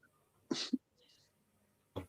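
A single close cough with a quick second burst, then quiet, and another short cough-like burst near the end.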